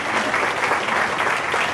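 Steady applause from an audience at an education equity conference, a dense wash of many hands clapping together for the student presenters, continuous and fairly loud with no talk over it.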